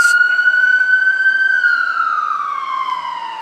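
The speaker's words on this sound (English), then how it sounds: "that's all the ambulances and fire things that you're hearing right now" A single ambulance or fire engine siren wail slowly rises then falls away, loud at first and gradually fading.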